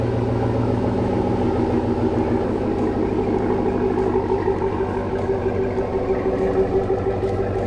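A pickup truck engine runs steadily as the truck is pulled out, a loud close low rumble with a constant idling hum and no talk.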